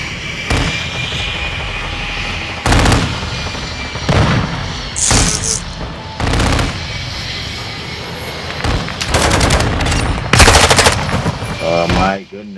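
Automatic sentry gun fire in Call of Duty: Modern Warfare II, loud rattling bursts repeating through the stretch with gunfire and aircraft engine noise in a hectic multiplayer match.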